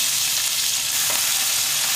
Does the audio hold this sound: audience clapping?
no